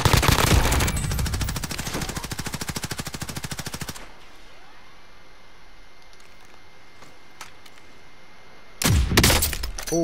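Rapid automatic gunfire rattles loud and close in a multiplayer shooter match, cracking an enemy's shield, then cuts to quiet ambience with faint clicks before another loud burst at the end.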